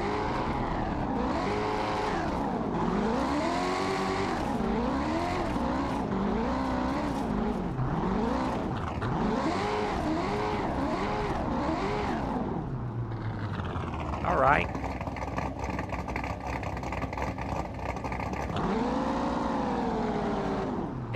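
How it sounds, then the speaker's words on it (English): A car engine with an aftermarket cam and six-speed transmission in the BeamNG.drive driving game revs up and down repeatedly with a lumpy, loud tone, then holds a steady high note before revving again. "That cam, I love the sound of this cam in this car."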